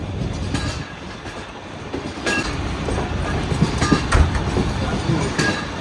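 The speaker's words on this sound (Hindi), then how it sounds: "कुछ इस तरह के स्पीड में ट्रेन हमारी आगे बढ़ रही है।" An old parlour car of the Shalimar Express, running from Multan to Karachi, rumbles steadily along the rails, with a continuous roar and rhythmic clickety-clack of wheels over joints, loud and close, with no voices.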